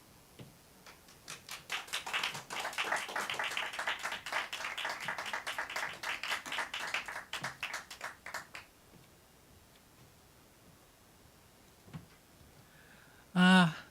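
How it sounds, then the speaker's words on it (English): Audience applause after a storytelling performance at a showroom story night, a dense patter of claps lasting several seconds before fading out, followed by quiet and a brief loud burst near the end. "The sound of that applause gladdens all our hearts who come up to these microphones."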